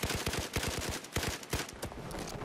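Rapid automatic gunfire from a Battlefield 4 match in Rush mode, a fast rattling stream of close, loud shots with brief pauses between bursts.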